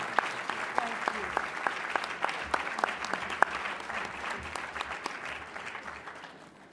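A plenary session audience applauds Senator Dianne Feinstein, a few distinct near claps standing out over a softer wash of crowd clapping that fades toward the end, with some talking underneath.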